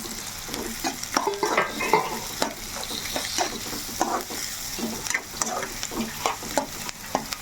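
Onions and tomato pieces fry in a pan with a steady close sizzle, broken by repeated clattering strokes of a stirring spoon, and no one speaks.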